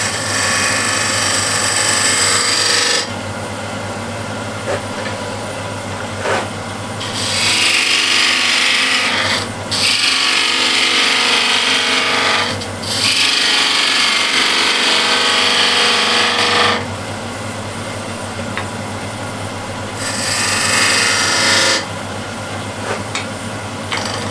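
A bowl gouge cuts a decorative bead into spinning wood on a lathe, making loud rasping shearing passes that come in long sustained bursts with brief quieter gaps between them, under a constant motor hum.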